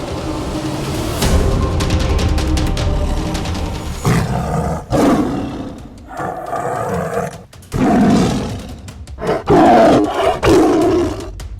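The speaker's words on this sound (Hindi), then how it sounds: "बाघ या व्याघ्र टाइगर जंगल में रहने वाला मांसाहारी स्तनधारी पशु है।" A tiger roars repeatedly in deep, rasping bursts with short pauses between them, loud and close, and no voices are heard.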